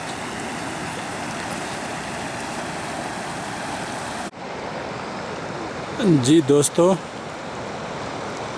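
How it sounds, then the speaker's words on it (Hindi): Water rushes out of Ratti Gali lake in a broad, steady roar, loud and close, with someone briefly speaking over it near the end. "मैं आपको दिखाता हूँ आगे कितनी शोर से पानी आ रहा है।"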